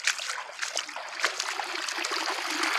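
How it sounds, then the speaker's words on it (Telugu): Irrigation water pours steadily from a canal into a farm field, a continuous close gurgling and splashing flow with no voices. "ఇట్లా కాలువల నుంచి అయితే నీళ్ళు పోతాయి."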